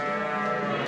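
Single sheep bleating in a pen, one near, sustained wavering bleat under a second long.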